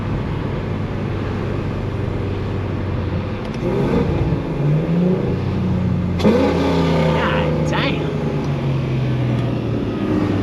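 A loud BMW M340i car engine idles and revs, its exhaust crackling and burbling with rising pitch sweeps, while a man exclaims briefly.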